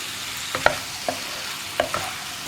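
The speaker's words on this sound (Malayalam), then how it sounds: "ഇതുവരെ ഒന്ന് ഇളക്കി കൊടുക്കുക." Fried paneer tossed in sauce in a pan for chilli paneer: a low sizzle runs underneath while a spoon scrapes and knocks against the pan in a few distinct strokes.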